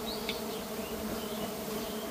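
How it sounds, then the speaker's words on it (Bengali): Honeybees swarming around a hive on a building, a steady dense buzzing drone from many bees, even and continuous, moderately close and quiet, with no talk. "এই যে দেখেন দ্বিতীয় নাম্বার মৌচাক এইটা।"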